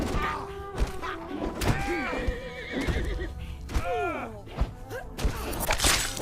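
A horse in the Conan Exiles video game whinnies several times in sharp, rising and falling calls. The calls are mixed with hoof thuds and combat thumps, and a voice talks faintly underneath.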